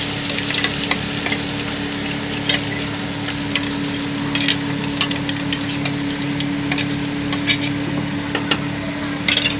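Ground pointed gourd paste with black cumin fries loudly in a wok, a dense close sizzle broken by frequent scraping stirs and sharp spatula clicks, with no talking.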